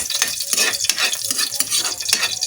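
Adobo meat sizzles and fries steadily in a pan, with repeated scraping stirs of a utensil against the metal at an irregular pace, close and loud with no talking.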